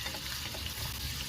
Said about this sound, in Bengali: একটু সময় নিয়ে চিকেনটাকে ভাজতে হবে এবং হাই ফ্লেমে ভাজতে হবে চিকেনটাকে